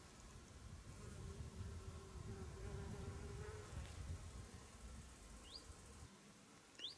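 Steady insect buzzing, like bees and wasps busy nearby, humming continuously with a few faint bird chirps in the distance.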